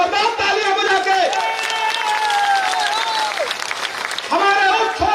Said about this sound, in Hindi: एक बार विंध्य क्षेत्र के लिए जोरदार तालियां बजा के